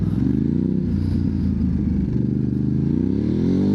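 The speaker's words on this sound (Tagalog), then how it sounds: "Tapos pag ginagas ko siya, no, sa first gear, umaangat yung motor." Ducati DesertX adventure motorcycle engine revving hard in first gear at an off-road adventure camp, a loud, steady, close throttle roar that holds and rises slightly.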